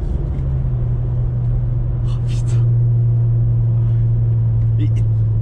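A loud, steady low engine rumble runs throughout, close by, with a brief exclamation from a man partway through.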